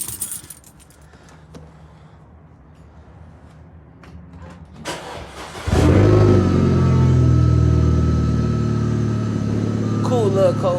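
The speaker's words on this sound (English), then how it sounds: "Cool little cold start for the meantime." Turbocharged 2-liter engine in an Audi S4 with a 6-speed manual cold-starts after a few seconds of quiet shuffling and clinks, catching with a loud burst and settling into a steady, strong high idle that fills the rest of the clip.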